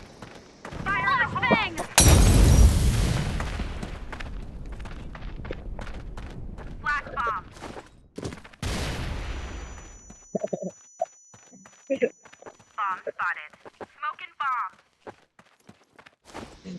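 Sharp bursts of game gunfire crack and rattle, a loud burst early then scattered shots, with people chatting over the action.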